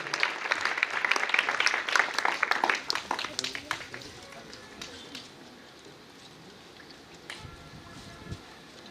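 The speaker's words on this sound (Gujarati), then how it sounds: "આપણે સૌ તાળીઓના ગડગડાટથી વધાવી લેશું." An audience claps at a village honoring ceremony. The dense applause is loud for the first few seconds, then thins out to scattered claps and quieter room noise.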